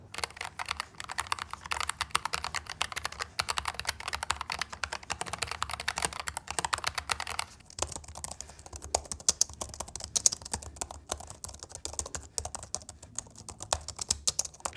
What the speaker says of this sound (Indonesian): penasaran bunyi ketik di kedua keyboard ini